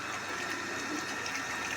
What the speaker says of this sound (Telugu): చూడండి, వాటర్ అయితే ఆగి వస్తున్నాయి.